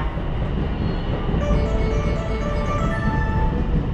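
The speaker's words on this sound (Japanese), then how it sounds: "まもなく電車が来ます。" A 221-series train pulls into Osaka Station's platform 1 on the Osaka Loop Line, a steady rumble of wheels and cars rolling in close by, with faint squealing tones rising partway through and no talking.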